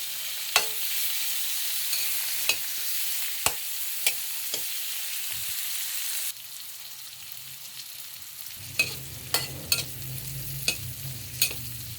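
Chopped onion fries in melted butter in a pan with a steady hiss, while occasional sharp clinks from stirring sound nearby. The sizzle turns lower and fuller midway through as more heat or ingredients take hold.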